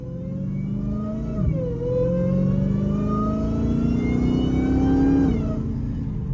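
Hellcat 300 motorcycle engine revving steadily, with a deep mid-range growl rising and dipping in pitch as the throttle is worked, loud and close with no talk.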